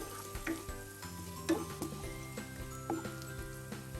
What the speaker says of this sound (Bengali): আমি একটু পেঁয়াজটাকে নরম করে নেই